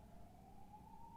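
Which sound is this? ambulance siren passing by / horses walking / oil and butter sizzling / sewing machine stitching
ambulance siren passing by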